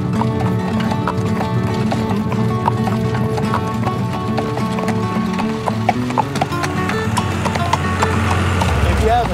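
Horse hooves clip-clop in a steady, close rhythm as the animal pulls a carriage through Berlin, Ohio, continuing under voices and a constant background hum.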